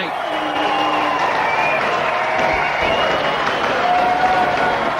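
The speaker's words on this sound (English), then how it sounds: "I think the crowd have just realised that there's something special going on out there from Brett Lee" Cricket crowd at an Australia vs New Zealand match cheering and applauding Brett Lee's fast bowling, a steady broad roar of claps and cheers with commentary voices over it.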